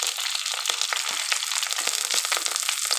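Mustard seeds splutter and crackle in hot coconut oil, a continuous dense sizzle with rapid popping bursts, close and loud, no voices.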